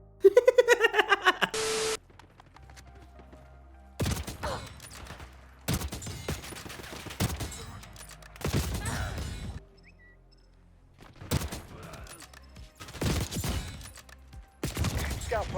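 Rapid gunfire in the shooter game Black Ops 6 comes in quick repeated bursts, loud and close, broken by gaps, with players laughing and talking over parts of it.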